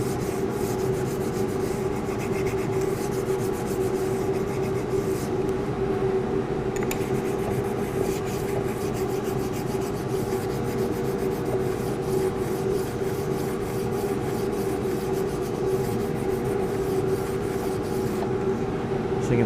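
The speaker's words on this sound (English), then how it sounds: "I'm just going to stone it here." A blade sharpened on a Blademaster machine is stoned by hand with a sharpening stone, giving a steady, close, continuous gritty rasp of steel rubbing across stone with rapid repeated strokes throughout.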